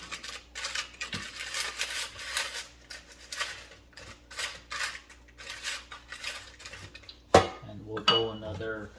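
Cube fries being stirred and shaken in a metal air fryer basket halfway through cooking, with repeated scraping and rattling clatter followed by a sharp, close metallic clink near the end.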